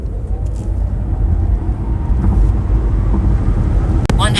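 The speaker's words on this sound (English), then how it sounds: "So let's put that into test and see how fast this car can go from 0 to 100." Rear-wheel-drive Zeekr 007 electric car with about 420 horsepower accelerating hard from 0 to 100 km/h, a loud, steady rush of road and wind noise with low motor drone that swells slightly over several seconds.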